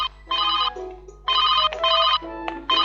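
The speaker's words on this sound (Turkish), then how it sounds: "Isaac telefonda bir kız seninle görüşmek istiyor" A telephone rings in repeated electronic trilling bursts with brief gaps between them, loud and close, with no voices.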